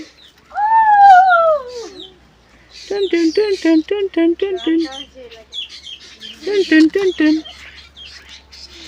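Unidentified baby birds in a nest calling loudly, a series of close, shrill chirps and squeals in bursts, with a longer wavering cry at the start and no other sound between the calls.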